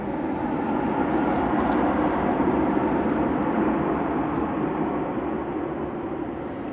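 A KLM airliner taxiing at Manchester Airport gives a steady, continuous jet engine rumble and whine that holds at an even level, with no voices over it.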